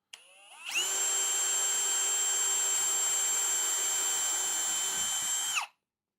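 A power drill spins up sharply and runs at a steady high-pitched whine for nearly five seconds during a hobby RC build, then winds down abruptly into silence, with no one speaking.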